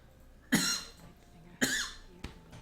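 Two sharp coughs from a person, each a harsh burst that trails off, followed by a shorter third cough, close and fairly loud against a quiet background during a multiplayer Baldur's Gate session.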